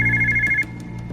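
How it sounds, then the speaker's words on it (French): A telephone rings unanswered, a loud electronic warble that pulses for about half a second and then cuts off, leaving a faint room hum with soft ticking. "Le téléphone sonne, personne ne répond au téléphone."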